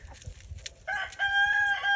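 A rooster crows nearby with a clear, drawn-out call in the second half, after softer clucks and low scuffling noises at the start, with no speech over it.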